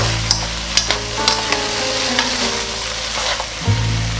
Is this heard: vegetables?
yes